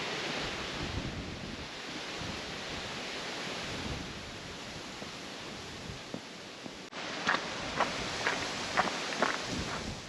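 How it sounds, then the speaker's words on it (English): Strong wind blows steadily across an exposed rural path in Tuscany, a broad roaring rush into the microphone that briefly eases, then returns louder with a few soft footstep-like thumps. "the wind now is really starting to pick up"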